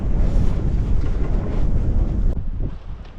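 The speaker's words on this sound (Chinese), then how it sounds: "外面这个风确实大呀" Strong wind buffeting the microphone outdoors in Xinjiang, a loud gusty rumble roaring throughout and easing slightly toward the end, with no talk.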